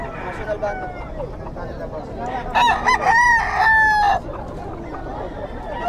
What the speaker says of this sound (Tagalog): Ganda manok